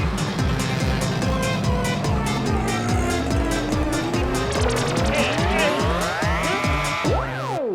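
An animated auto rickshaw races with a loud revving engine and a rising, whining tire squeal as it skids to a stop, all continuous and close.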